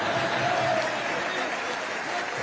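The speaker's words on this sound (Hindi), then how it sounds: "ये आपकी ताली से पता चल गया मुझे।" A crowd claps at a speech about yoga delivered to an audience in Nigeria, a steady, moderately loud patter that fills the whole moment.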